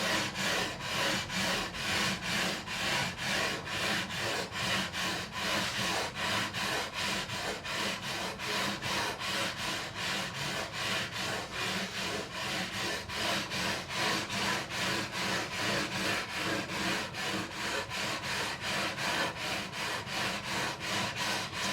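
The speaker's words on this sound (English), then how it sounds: "I'm going to finish off going over with the 400 grit. And I know the frets are level, then we're just going to let this leveling beam do the talking" Steady back-and-forth rasping of 400 grit sandpaper on a leveling beam drawn over the frets of a Made in Japan Schecter guitar, a close, continuous rhythmic scrubbing with no pauses for over twenty seconds.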